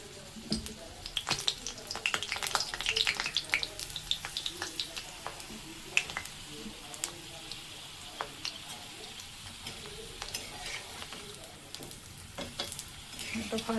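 Potato-stuffed papad rolls fry lightly in a pan, giving a faint, continuous sizzle with scattered crackles and occasional stirring clicks throughout.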